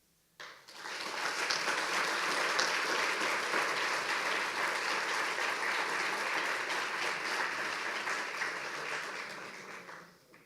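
Sustained audience applause at an annual preservation awards ceremony, a steady wash of many hands clapping that starts abruptly, holds loud and even for about nine seconds, then tapers off.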